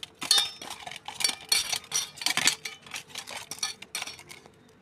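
Spoon and bowl clatter as a rohu fish head is mixed with turmeric and salt in a bowl; irregular close clinks and scrapes come in quick bursts, with no talking.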